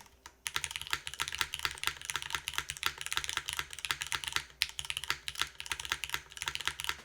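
Fast typing on an O-ring-mounted mechanical keyboard, a steady stream of soft, muted clacks close up, with occasional heavier thocks from larger keys.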